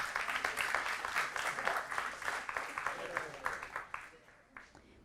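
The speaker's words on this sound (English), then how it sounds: "Let's give Coach Washington another big round of applause." Audience at a school board meeting applauding a high school coach, a steady round of clapping from many hands that gradually thins and fades toward the end.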